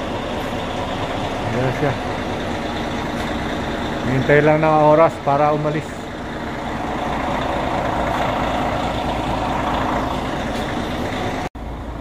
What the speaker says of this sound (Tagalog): Ito yung bus na sasakyan ko.